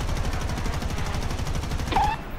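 Rapid machine-gun fire from aircraft in War Thunder rattles in a fast, even stream of bursts, loud and continuous, with a brief engine or whistle tone near the end.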